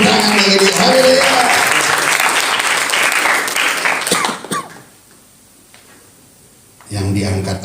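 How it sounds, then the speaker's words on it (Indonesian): A church congregation at a fasting prayer session on Mount Salak in Bogor breaks into loud, dense applause that fades out, leaving near silence before noise resumes at the end. "Berikan tepuk tangan bagi dia."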